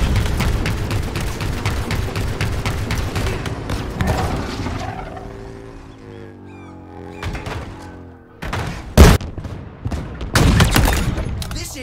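Sniper gunfire in a Halo-style shooter video game, with dense bursts of shots early on, a fading tail, then several sharp, loud isolated shots near the end.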